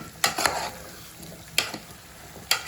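Chicken and green chillies are stirred into a sizzling curry in a pan, a spoon scraping in a few sharp bursts over a continuous soft fry, close and clear with no talking.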